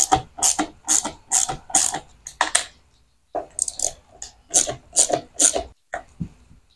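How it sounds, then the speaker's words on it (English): T20 Torx screws are backed out with a screwdriver during a paddle shifter install on a 2006-10 Dodge Charger, giving a series of close, rapid scraping clicks in two bursts separated by a brief pause. "Next thing, we're going to take these screws out."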